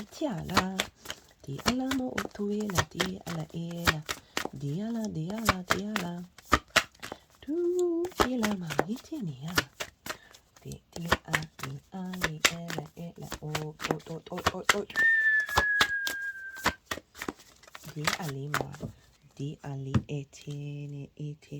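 A deck of oracle cards is shuffled in repeated crisp riffling bursts and card snaps, close up, while someone talks over and between them.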